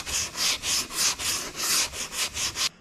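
60 grit sandpaper is worked back and forth along a dashboard in about eleven quick, even strokes. The scratchy rasping is close and regular, with no talk.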